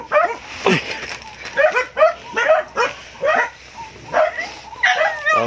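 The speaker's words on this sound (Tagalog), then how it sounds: "May aso dun sa daanan." A dog barks repeatedly in sharp, evenly spaced barks, fairly close, with a faint voice now and then in the background.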